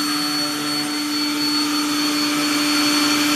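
An X-Carve CNC machine carving, a loud steady whine of the spindle and motors with strong sustained tones, running continuously and close up with no talk.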